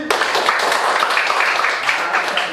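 A classroom of students claps for a classmate, a dense, steady patter of many hands that fills the short moment at moderate loudness without pause.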